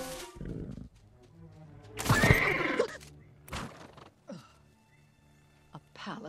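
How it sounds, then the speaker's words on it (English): A palace horse in an animated film gives a loud, rising neigh that lasts about a second, with quieter snorts and shuffling before and after it. "A palace horse."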